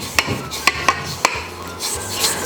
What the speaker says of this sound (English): we wanna scrape down the sides